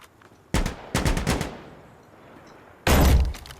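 Gunfire in the shooter game Insurgency Sandstorm: a rapid burst of several loud shots, then a second burst, a quiet gap and one more loud blast near the end.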